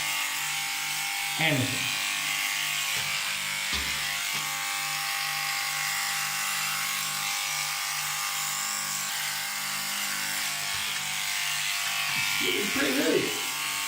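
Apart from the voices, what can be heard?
electric clippers shaving off balding hair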